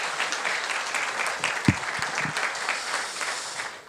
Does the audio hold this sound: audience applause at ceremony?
yes